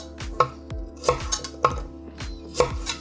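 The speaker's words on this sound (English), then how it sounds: "I'm going to chop off these tips" Knife chopping the tips and roots off vegetables on a cutting board, five or six sharp, close thunks spaced roughly half a second apart, with no voices.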